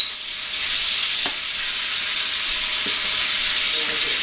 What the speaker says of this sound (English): the bacon's starting to cook up pretty decent